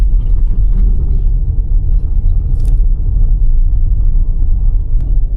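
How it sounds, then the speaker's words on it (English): Car driving through Friars Point, a rural town in Mississippi: a loud, steady low engine and road rumble heard from inside the vehicle, with no talk. "We'll just drive around."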